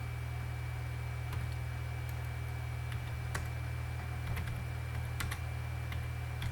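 Faint, sparse key clicks of typing on a computer keyboard in a terminal, with a few scattered taps over a steady loud electrical hum and hiss.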